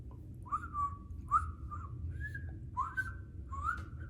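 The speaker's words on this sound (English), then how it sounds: "just whistle my way, walk somewhere else" A person whistles a short tune of five or so rising and gliding notes, close and fairly quiet over a low background hum, with no speech.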